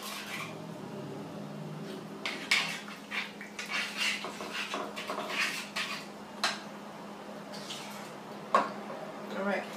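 Spices and Hunt's tomato paste being stirred together for a tilapia sauce, with faint scraping and soft clinks of a utensil against a bowl, quiet and close, with a brief louder knock near the end.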